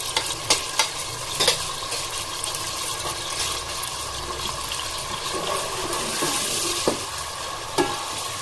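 Ginger and garlic frying in oil with cumin while being stirred, producing a continuous bright sizzle broken by several clinks and scrapes of the spoon against the pan, close and alone.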